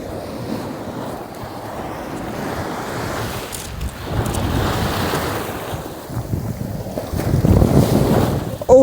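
Atlantic Ocean waves washing in at a beach, with steady wind buffeting the microphone; the surf swells and crashes louder toward the end, with no talking.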